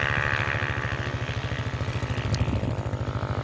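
A motorcycle engine runs close by with a steady, rapid low putter and slight clatter, holding an even pace throughout without any talking.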